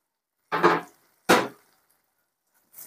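Fried potatoes go into a pot of chicken curry with two short, close thuds about a second apart, then quiet.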